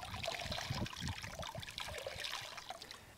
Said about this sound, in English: I'm going to rinse that off right there.